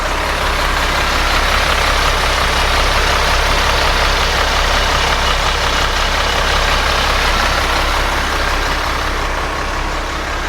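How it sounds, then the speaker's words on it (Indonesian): Scania bus engine idling, a loud, steady low diesel rumble with broadband roar that stays constant throughout, close by, without talk. "Ini Scania. Nih ya, coba ya teman-teman dengar suara mesinnya nih."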